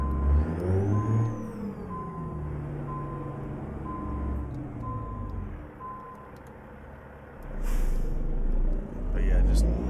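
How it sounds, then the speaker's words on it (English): A truck in American Truck Simulator with a low engine rumble, a steady reversing beep repeating for several seconds, and a hiss like air brakes near the end, all under someone talking. "just listen to this truck. It just, man, it sounds so good"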